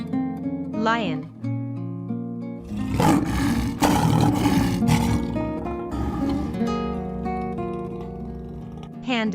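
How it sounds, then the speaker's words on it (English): A lion roars in a few rough, drawn-out bursts mixed with sustained musical tones, loud and close throughout. "Lion."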